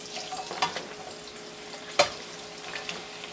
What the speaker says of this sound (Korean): 버터가 녹으면 양파를 넣어줍니다